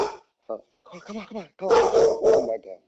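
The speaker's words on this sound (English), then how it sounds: "excuse my dog" A dog barks indoors in several short bursts, mixed in with a person talking over it and calling to the animal.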